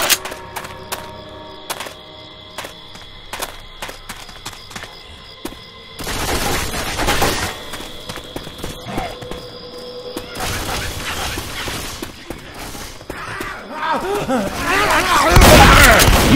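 Rapid bursts of gunfire crackle through a Left 4 Dead 2 co-op match, steady repeated shots early giving way to dense, louder volleys and booms toward the end, with game noise and occasional voices underneath.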